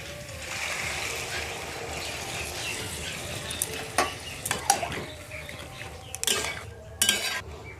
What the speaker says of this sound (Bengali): কষানোটা হয়ে গেছে, এখন দিয়ে দিচ্ছি জল